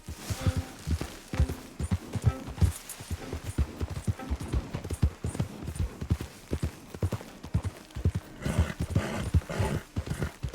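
Horse hooves clip-clop in a steady walking rhythm in Red Dead Redemption 2, close and continuous, with soft game ambience and no talk.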